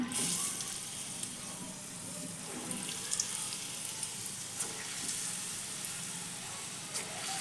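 Lentil bhalle fry in hot oil with a steady, close sizzle and crackle throughout, plus occasional faint clinks and pops.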